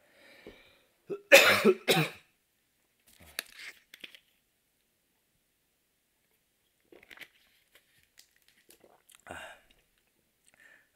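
A burst of several sharp coughs and throat clearing, close and loud, followed by quiet pauses and a couple of softer coughs later.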